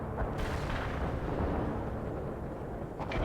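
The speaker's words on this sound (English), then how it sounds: "Every time I sit still, a fucking shell lands on something I don't want a shell landing on." An artillery shell lands in the World in Conflict video game, giving a deep, rumbling explosion set against steady background battle noise, with no talking.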